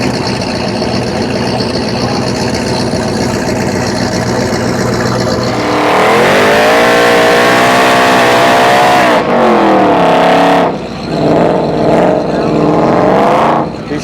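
Race cars, one of them a Mustang, thunder off the line on a drag strip at Rocky Mountain Race Week, with a loud engine roar that builds and rises in pitch as they accelerate away, then a second burst of revving near the end.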